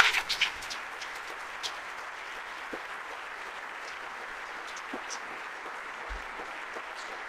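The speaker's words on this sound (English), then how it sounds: "So let's give them some applause as well." Faint, even applause from a conference audience at a closing session in Paris, a soft continuous patter of clapping heard at a distance with a few louder claps near the start.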